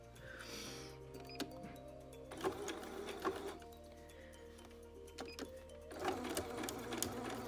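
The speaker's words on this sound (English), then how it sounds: "Lock it in and then sew." A sewing machine runs in several bursts of whirring stitching through toweling for a face cloth, with pauses, clicks and handling noises between the runs, close and moderately loud.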